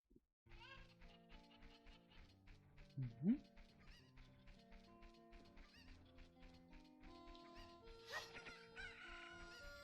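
A chicken in the video game Zelda: Ocarina of Time gives short clucks and squawks over game music and effects, with a louder burst near the middle.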